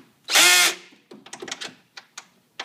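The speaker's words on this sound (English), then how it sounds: "then I'll use a drill, a cordless drill, to tighten it" A cordless drill tightens nuts and bolts, with a short loud whirring burst followed by a quick series of clicking, ratcheting taps close by.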